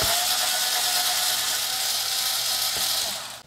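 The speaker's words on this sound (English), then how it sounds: "so we'll take the screws out for the CD player and see if it will lift out" A Denon UDM30 micro system being taken apart, a screwdriver or power driver backing out the screws that hold its CD player: a steady, continuous whirring rasp, close and loud, running unbroken for a few seconds before cutting off.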